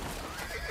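A horse neighs in a brief, faint whinny set against a steady background hum, offered as the water horse of Scottish island and Highland folklore.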